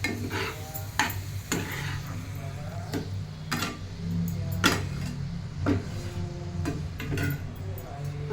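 Modak filling mixed with ghee is stirred in a pan, giving steady scraping and soft clinks of a spoon at close range over a low background hum, with no talking.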